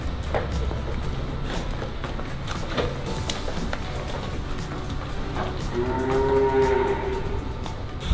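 A cow in a hoof-trimming crush, treated for digital dermatitis, gives a low drawn-out moo near the end, over steady barn noise and clattering.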